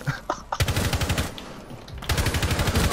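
Rapid automatic gunfire in the video game Rainbow Six Siege rattles close and loud in two sustained bursts separated by a short pause.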